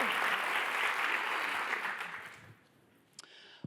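An audience at a speaking event breaks into a burst of dense clapping that holds steady, then fades out over a few seconds, leaving a couple of faint knocks.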